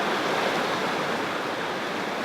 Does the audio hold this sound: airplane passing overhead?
no